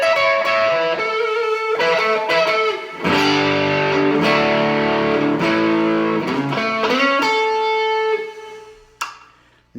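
A 1970-71 Epiphone ET270 electric guitar with 1960s EKO pickups, played on the neck pickup through an AC booster with light compression and digital reverb, rings out loud distorted chords and sustained notes before fading to a final decay.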